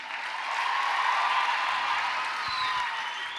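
An audience at a youth conference couples session claps steadily for a newly married couple, a dense, even patter of applause lasting a few seconds with no talk over it.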